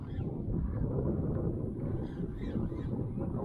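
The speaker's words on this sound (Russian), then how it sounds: "Ветерок что-то резко поднялся." Steady gusty wind rushing across the open water of the Irtysh River, a constant broadband roar buffeting the microphone, with no voices.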